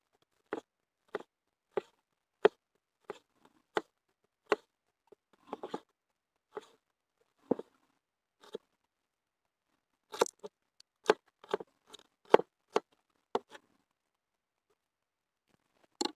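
Shallots being sliced with a knife on a cutting board for a Thai jaew dipping sauce. Crisp, close chops come at a steady pace, then break into quicker clustered bursts, with no talking.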